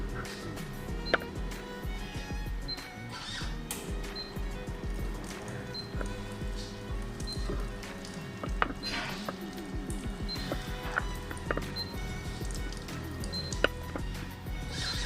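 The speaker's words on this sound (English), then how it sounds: "Then it would rinse the milk tube." A Dr Coffee F11 Big Plus coffee machine runs a milk tube rinse, with a steady mechanical whir, gurgling water and scattered clicks going on continuously at close range.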